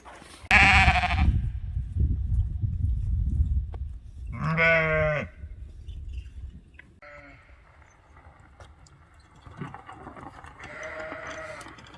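Young lambs on a farm in a Belarusian forest setting bleat in a few separate calls, one loud, wavering bleat near the start and middle, then fainter calls later amid quiet rustling.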